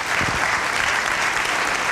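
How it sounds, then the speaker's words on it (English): Steady audience applause fills a hall at a district state-of-the-district address, a dense, even wash of many hands clapping at once with no voices over it. "If we could please give our two gentlemen a round of applause for the work that they do."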